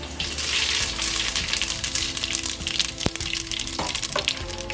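Cumin seeds sizzle and crackle in smoking-hot mustard oil, a steady broadband fry across the whole span with a few sharp pops and small clinks of utensils.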